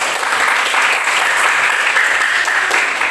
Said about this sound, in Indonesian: tepuk tangan dulu kita selesai